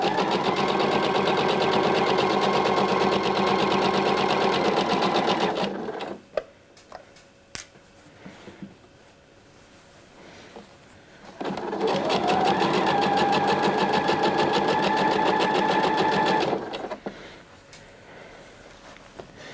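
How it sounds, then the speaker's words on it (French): A sewing machine stitches along the back of a skirt waistband in two long continuous runs. The motor hum is loud and steady, with a quieter pause between the bursts. "Donc là, je couds bien tout le dos."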